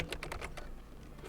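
A quick run of keystrokes on a computer keyboard, about half a dozen close, clicky taps in the first half second, then quiet room tone.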